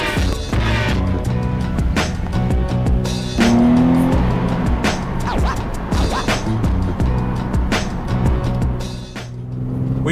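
A Nissan Nismo 380RS Z33 350Z driving on a bumpy road, its engine droning loudly and steadily with rising and falling revs and brief tire noise, close and continuous without talk.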